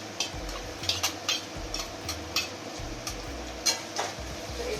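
Spoon stirring a pan mixture with black pepper and fried egg, sizzling faintly in the background, with soft scrapes and light taps against the pan at an irregular pace, close by and fairly quiet.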